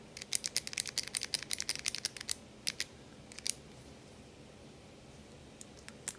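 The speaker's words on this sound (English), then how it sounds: "I'll do a quick click for test comparison" Modded Zebra F-701 pen clicked rapidly over and over, a burst of crisp, close, bright clicks in quick succession, then a few scattered clicks after a short pause.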